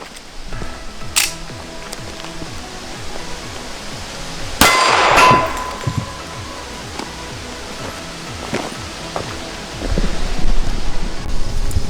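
.45 ACP rounds fired at a homemade target while plinking give one loud, sharp crack with a ringing clang, plus a few fainter knocks and clicks around it against a quiet background.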